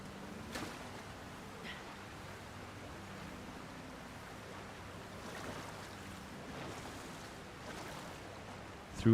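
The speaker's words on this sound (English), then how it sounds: "Through another waterfall." A waterfall in The Legend of Zelda: Tears of the Kingdom gives a steady, faint rushing hiss of falling water that carries on evenly throughout, with no voices.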